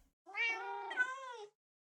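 A black cat gives one drawn-out meow that bends in pitch midway, clear and close, alone against a quiet background.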